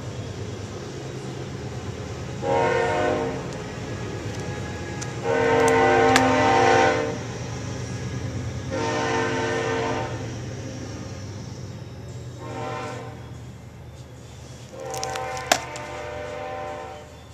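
A train rolls past under a constant low rumble, sounding its horn in five separate sustained blasts of varying length, some longer and louder, with a sharp click near the end.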